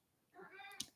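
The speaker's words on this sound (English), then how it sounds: "So that's my cat" A single short meow from a house cat, close and fairly quiet, ending with a brief soft thump.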